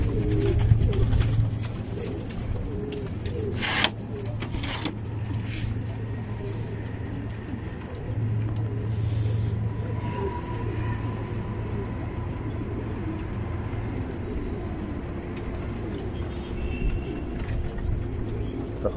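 Domestic pigeons in a loft coo in a low, steady murmur that runs through the whole stretch, with faint outdoor background noise and no talking.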